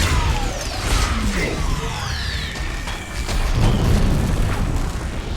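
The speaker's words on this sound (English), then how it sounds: "Now shoot a nuke launcher at that cannon." A nuke launcher blast from the video game Mass Effect 3 erupts as a loud, rumbling boom followed by whooshing debris and a long roaring tail that swells again.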